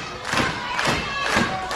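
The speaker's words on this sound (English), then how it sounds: "They're pounding the boards out here at Davis Arena" A wrestling crowd pounds the boards at Davis Arena during a women's match, with rhythmic heavy thuds recurring about every half second under a loud, roaring mass of voices.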